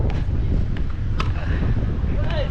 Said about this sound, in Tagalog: Malakas kasi hangin mga kasadik